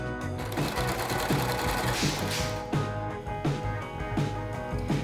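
A sewing machine runs a straight stitch along a velvet prom dress with a steady, fast mechanical chatter that comes in rhythmic pulses, loud and close.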